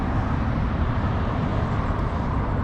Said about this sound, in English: It's kind of loud because the freeway is literally right there